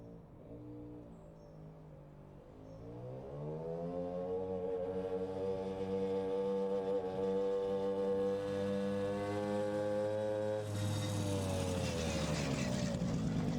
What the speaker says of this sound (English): it takes off fine at low revs, but when you get to full throttle it bogs down